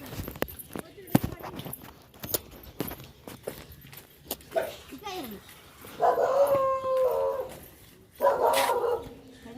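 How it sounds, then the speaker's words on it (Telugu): Dogs bark and yelp in short bursts while playing, with scuffling steps and a couple of louder barks, fairly close; people talk in between. "కుక్కలు ఆడుతున్నాయి"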